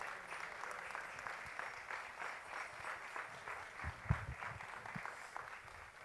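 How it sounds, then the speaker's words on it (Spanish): An audience at an evening folklore festival during the San Miguel fiestas in Valsequillo de Gran Canaria gives sustained applause, with a distinct rhythmic clapping pattern, moderately distant and fairly quiet. "Fuerte aplauso para ellos, por favor."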